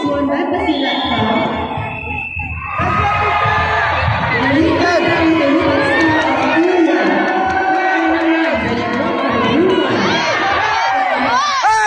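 A crowd of Tisya supporters at a tournament final roars with loud, sustained cheering, whoops and shouted chants, building after a brief lull and staying dense and near.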